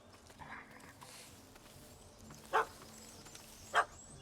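Puppy in The Witcher 3 video game gives two short, sharp barks about a second apart, clear against a quiet outdoor ambience.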